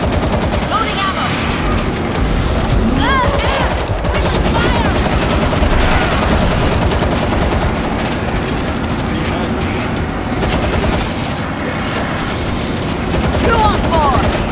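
Dense gunfire from a video game, with bursts and continuous automatic fire layered over explosions and booms, loud and sustained throughout, with shouted voices mixed in.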